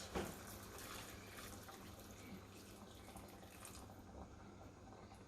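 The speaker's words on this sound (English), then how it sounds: "I'm going to add hot water." Hot water pours steadily into a pot for fish soup, a soft continuous splashing stream that is fairly quiet, with a faint tap or clink near the start.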